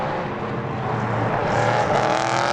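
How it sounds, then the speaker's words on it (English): GT race car pulling out of the pit lane at Portimão in 2019, a steady engine drone rising slightly as it accelerates away, fairly loud and without talk. "he follows Duncan Tappy out of the pit lane."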